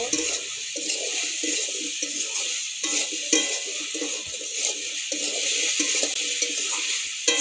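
Bitter gourd fish curry sizzles in a pan with little oil while being stirred, a steady bright frying hiss with soft scraping strokes repeating under it.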